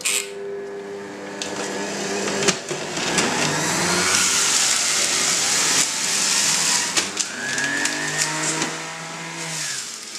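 A Robot-Coupe J 80 Ultra or J 100 Ultra commercial juicer motor whirs up and runs with a rising, then steady, mechanical whine and grinding of produce, close and loud, with occasional knocks and no talking.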